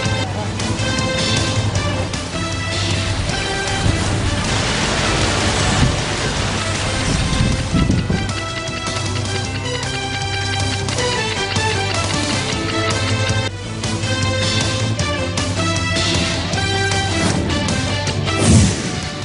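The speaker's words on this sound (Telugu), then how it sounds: "పశ్చిమ గోదావరి జిల్లాలో గత 2 రోజులుగా కురుస్తున్న వర్షాలకు పలు లోతట్టు ప్రాంతాలు రోడ్లు జలమయమయ్యాయి." Rain in West Godavari district, Andhra Pradesh, with heavy rainfall flooding low-lying areas and roads; a loud, continuous hiss of rain fills the whole stretch, steady and close, with no voices.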